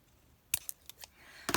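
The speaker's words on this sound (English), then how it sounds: "Gotta snip that tip off." Scissors snip the tip off a thin-glue bottle: a few sharp, close clicks and cuts in quick succession, ending in a louder, crisp double snip.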